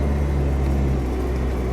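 A 1997 Lexus LX 450 Land Cruiser fitted with a 4BT Cummins diesel drives along, its low engine drone and road rumble heard steadily from inside the cab.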